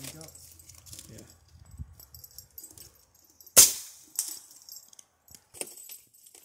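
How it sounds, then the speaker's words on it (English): A Gamo Whisper Fusion Mach 1 .22 caliber air rifle fires one sharp, loud crack at long range, followed by a few fainter clicks and knocks, with quiet voices talking in the background. "so I took a lot of shots"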